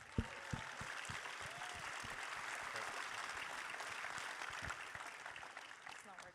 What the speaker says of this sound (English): giving our sponsor, judges, and mentors a huge round of applause